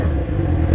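Yamaha XJ6 motorcycle engine running close and loud, a steady low rumble with uneven, rough pulsing that suggests misfiring, heard alone for under a second.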